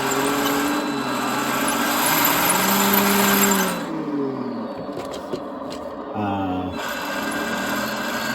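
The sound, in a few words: RC tank electric motors driving forward at varying speeds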